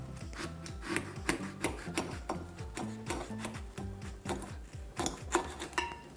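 A serrated knife saws through a watermelon, rapid rhythmic rasping strokes with scratchy bursts repeating close and fairly quiet, with no talking.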